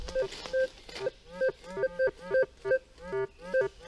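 Short electronic beeping tones from a metal detector over a steel object, pulsing in an uneven series of pitched blips over low background noise.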